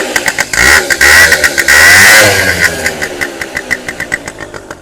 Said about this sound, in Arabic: اسمع لي الماكينه كي دايره